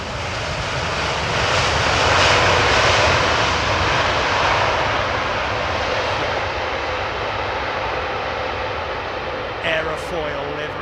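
An EVA Air airliner on approach to Heathrow's runway 27R roars loud and steady with broad engine noise that swells and then holds, while a voice talks faintly underneath.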